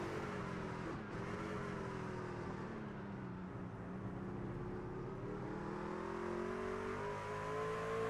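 A race truck engine accelerates through the backstretch chicane at the Charlotte Roval, a steady, moderately distant whining roar that climbs in pitch, dips briefly, then climbs again.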